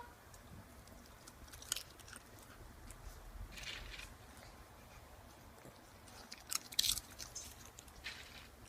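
A Lhasa Apso puppy chews a treat up close. Soft, quiet gnawing and squishing runs throughout, with a few sharper crunches standing out.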